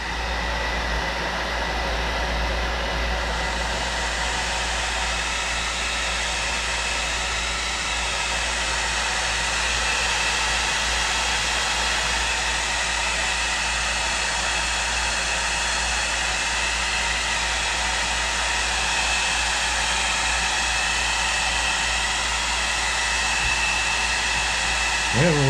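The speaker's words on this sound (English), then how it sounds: "The blow dryer." A blow dryer runs in a steady, loud, continuous whoosh while drying a painted frog-pattern hardbait fishing lure, close by with no talk over it.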